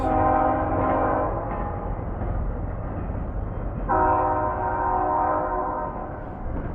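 A train horn blares loud and close at a crossing. Two sustained blasts are heard over the rumble of the passing train, with no voices.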